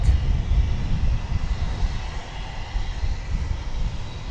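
A plane flies past at DFW Airport, its engine a loud, steady broadband roar that holds throughout without pause.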